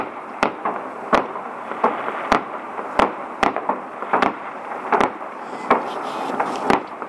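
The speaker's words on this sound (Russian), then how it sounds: "И вот такой салют-фейерверк будет продолжаться до утра." Repeated sharp New Year firework salute bangs, about a dozen sharp reports at irregular intervals, with crackling and a hum of crowd noise between them.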